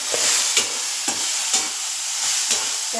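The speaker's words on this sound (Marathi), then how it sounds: "बघा आता ह्या अशा पद्धतीने ना शेंगा मस्त भाजून घ्यायच्या" Peanuts (groundnuts) are dry-roasted in a pan for a green chilli and garlic thecha. A moderate hiss and rattle are broken by regular scraping stirs about every half second, and nobody speaks.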